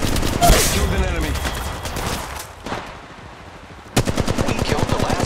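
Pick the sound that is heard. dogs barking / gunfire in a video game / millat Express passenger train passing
gunfire in a video game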